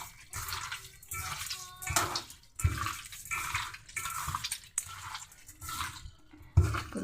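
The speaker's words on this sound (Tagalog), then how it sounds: "Hugasan na natin siya sa asin guys para matanggal yung langsa niya." Raw chicken gizzards being washed by hand in water with salt, with splashing, sloshing and squelching in bursts that stop and start, close by and moderately loud, with no speech.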